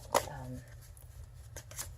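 Tarot cards are riffled and shuffled by hand during an indoor reading, a soft flutter of card edges with a sharper snap near the start and another toward the end, all quiet and close.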